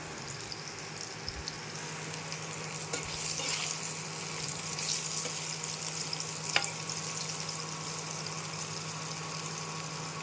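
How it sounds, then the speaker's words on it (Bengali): Bitter gourd frying in a pan gives a soft, continuous sizzle with faint scraping and a steady low hum beneath it. "এখানে কিন্তু আমি করলাগুলো ভেজে নিচ্ছি, লাল লাল করে ভেজে নেব।"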